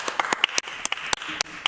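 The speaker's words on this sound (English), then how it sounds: "What a robust round of applause." Scattered applause in a legislative House chamber: a modest group clapping in a loose, uneven rhythm of sharp nearby claps for under two seconds.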